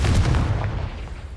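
A fiery Confringo spell blast in a Hogwarts video game: a loud, rumbling burst with dense low-end boom that slowly fades over a second or so, with no voices.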